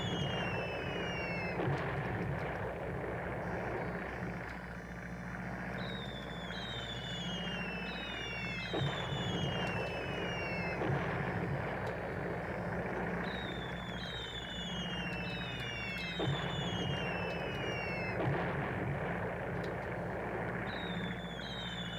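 Bomber attack in Civilization II: a steady droning engine hum runs throughout, and repeated descending whistles fall in clusters over it, loud and continuous with no talking.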